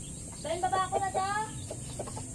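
Native or imported chickens in open crates give a short run of clucks and soft calls, fairly faint against a low background hum.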